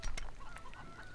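Chickens cluck and squawk in short, scattered bursts at a chicken farm in the strategy game Stronghold Legends, fairly faint with no talking.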